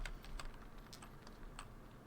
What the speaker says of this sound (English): I'm guessing Gabriel was one who did all the typing